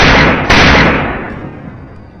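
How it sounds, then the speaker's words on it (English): A single loud gunshot cracks out during a wild boar hunt with hounds, followed by a long fading rumble of echo, with no voices. "A single, decisive gunshot rings out"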